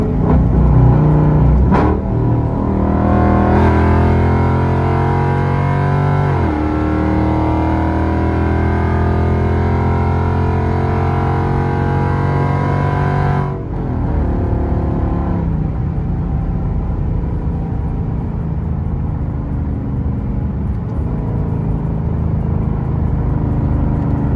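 Cammed Dodge Scat Pack 392 car accelerates hard from 80 mph, engine roaring loudly from inside the cabin with rising tone through gears, then easing into steady cruising rumble.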